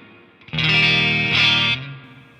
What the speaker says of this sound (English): Reverb sounds pretty good so far. It's not overpowering. You're not going to drown in reverb.